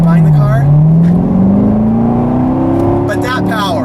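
A Chevrolet C7 Corvette engine pulls at quarter throttle, a loud, close rising drone climbing steadily in pitch over a few seconds with a rumbling low end.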